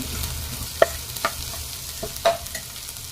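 Chopped broad beans being stirred in a hot pan, giving a steady sizzle broken by a few clinks and scrapes of the spoon against the pan, with no talk.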